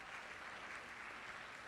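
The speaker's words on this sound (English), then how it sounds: "big round of applause to all the panelists here." Audience applause for a panel of speakers in an auditorium, a steady wash of clapping from many hands lasting under two seconds, moderately distant and even, with no voices over it.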